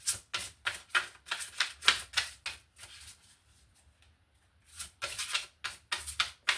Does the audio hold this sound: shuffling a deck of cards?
yes